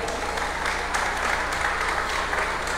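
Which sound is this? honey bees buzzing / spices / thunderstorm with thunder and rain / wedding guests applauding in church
wedding guests applauding in church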